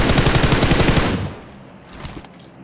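An automatic weapon in the video game PUBG Mobile fires a rapid, loud burst of about a second, which cuts off into quieter game ambience with faint distant sounds.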